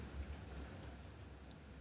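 A single computer mouse click, a tiny faint tick against quiet room hiss, with a fainter click earlier and no voice.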